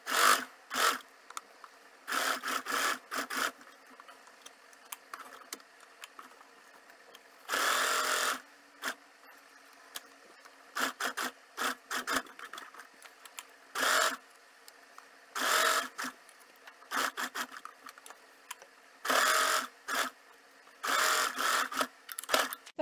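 A sewing machine stitching a welt pocket on a men's kurta in a home tailoring setting, running in repeated close bursts of steady whirring separated by quiet pauses.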